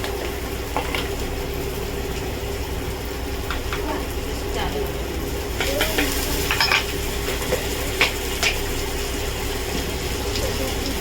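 Garlic paste frying and being stirred in a pan for a Bengali prawn curry, a continuous close sizzle with scraping stirs and small utensil clinks building toward the middle, while faint voices murmur in the background.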